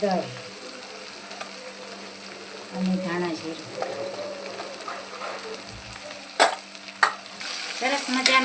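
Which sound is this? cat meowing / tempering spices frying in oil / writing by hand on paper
tempering spices frying in oil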